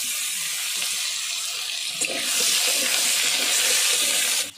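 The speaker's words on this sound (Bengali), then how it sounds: "তেল গরম হয়ে গেছে, এবার আলুগুলো দিয়ে দিই" Potatoes dropped into hot oil in a wok, sizzling with a steady bright hiss that swells louder partway through and then cuts off at the end, with no voices.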